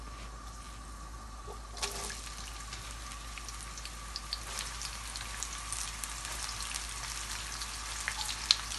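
Spice paste frying in hot oil for a duck curry cooked in coconut milk, a continuous fine crackling sizzle like light rain, close and even with scattered tiny pops, no voices.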